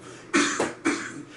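A woman coughs during a podcast, two sharp close bursts with a brief gasp between, against quiet room tone.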